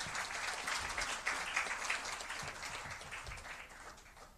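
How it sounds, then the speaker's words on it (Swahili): Applause from an audience in a hall at a bank's annual financial results event, a fairly faint, continuous patter of many hands clapping, heard alone throughout. "Hebu tujipongeze na makofi mengi sana."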